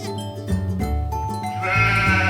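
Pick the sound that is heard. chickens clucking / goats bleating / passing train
goats bleating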